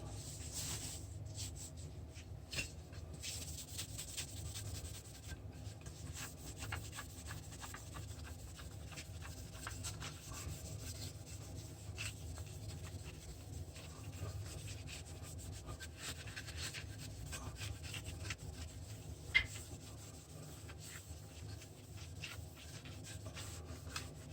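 Cloth rubbing steadily against metal parts of a 1978 Schwinn Hurricane 5-speed bicycle during cleanup, using an old sock as a rag; a soft, continuous close-up scuffing with a few sharper scrapes and no talking.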